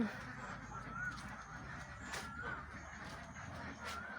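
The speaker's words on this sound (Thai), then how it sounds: "เฉพาะเป็ดมันร้องสนั่นเลยแหละ" Laying ducks, one of which spent the night trapped under a basin, give repeated honking quacks at a modest distance, rising and falling over low background noise.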